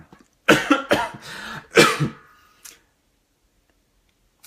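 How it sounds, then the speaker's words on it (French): A person coughs in a rough cluster of three or four close, harsh hacks, followed by a faint tick and quiet. "Ah, j'en tousse."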